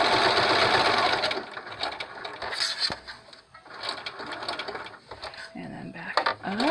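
A sewing machine stitches down a pleated fabric face mask, running in a steady mechanical whir that starts loud and continuous, then continues in shorter uneven bursts with pauses as the thick corners are worked.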